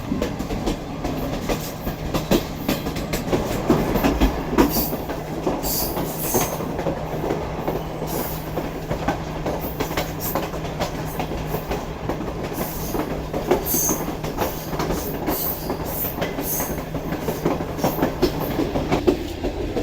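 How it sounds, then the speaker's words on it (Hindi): Passenger safari train rolling along rails through mountainous country, a steady close rumble with faint wheel clatter and occasional metallic squeals running throughout. "ट्रेन आहिस्ता आहिस्ता पहाड़ के ऊपर चलेगी"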